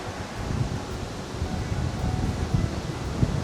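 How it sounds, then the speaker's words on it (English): Strong wind roars and buffets a microphone on the outdoor deck of a cruise ship, a constant low rumble with gusty swells and no voices. "It is windy."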